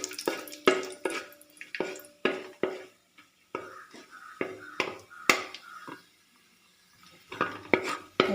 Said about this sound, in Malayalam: ഇനി ഇതേ എണ്ണയിലേക്ക് കുറച്ച് കശുവണ്ടി പരിപ്പ് ഇട്ട് കൊടുക്കാം. അത് ഒരു ബ്രൗൺ കളറാകുന്നത് വരെ ഒന്ന് വറുത്തെടുക്കാം.